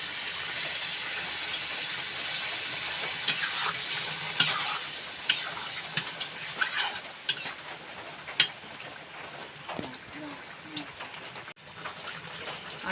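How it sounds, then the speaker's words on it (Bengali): Potatoes frying for Bengali aloo dum sizzle steadily as a little water is added, the hiss running under clinks and scrapes of stirring, then easing toward a quieter simmer near the end. "অল্প জল দিয়ে দেব।"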